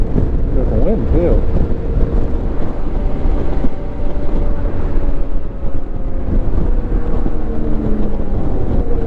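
Steady, loud wind buffets the microphone on a mountain road climbing toward Wilcox Pass, forming a continuous roaring rumble with a faint tonal whine underneath.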